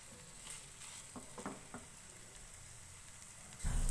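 Chicken cooking in a pan over a high flame, its liquid cooked off, giving a steady quiet sizzle with a few soft stirring scrapes and a louder burst of frying right at the end.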